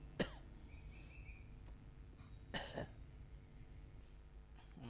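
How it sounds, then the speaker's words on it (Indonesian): Two separate throat-clearing coughs from a person giving a lesson, one sharp and one slightly longer, heard close in an otherwise quiet room with faint background hum. "Maaf batuk tadi."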